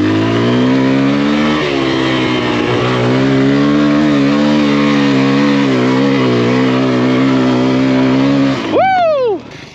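Kawasaki KLX140RF dirt bike climbing a loose sandy hill, its engine loud and close with a sustained high-revving whine that holds and wavers, then a sharp rev sweep near the end.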